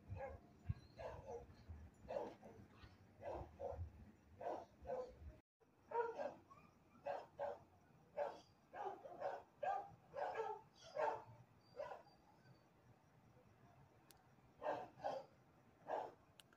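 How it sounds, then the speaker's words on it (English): Basset hounds bark down a residential street, a long run of repeated deep barks and yips at an even rhythm, moderately distant and heard alone without talk. "there was the basset hounds down the street"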